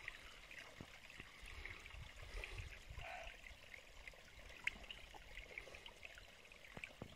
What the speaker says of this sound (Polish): Woda ze źródełka.